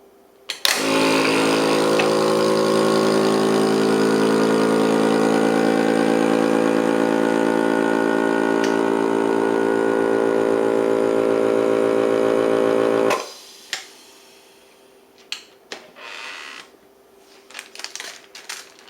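Food vacuum sealer hums with a loud, steady motor drone for about twelve seconds while sealing a bag, then shuts off, followed by a few faint clicks and handling noises.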